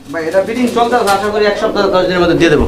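A pair of Gola Jhuti Jewel pigeons at a pigeon seller's coo in soft, repeated, rolling calls that run throughout, close by and fairly loud.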